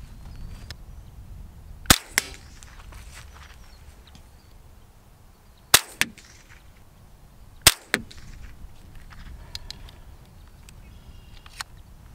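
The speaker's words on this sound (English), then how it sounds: "We're gonna take three shots, see where we're at, make an adjustment, and then we'll try it again from there." Three sharp 22 Savage rifle shots, fired freehand at a 50-yard target outdoors, crack out one by one with a few seconds between them over quiet background noise.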